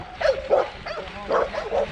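A farm dog barks at a cyclist on a mixed-surface ride near Hahira, Georgia, giving a quick run of several close, rough barks and yips, fairly loud against light wind noise.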